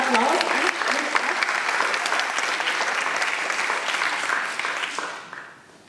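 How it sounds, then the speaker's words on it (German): A film festival audience gives dense, sustained applause, loud and full from the start, holding steady before tapering off and fading near the end. "Der Applaus."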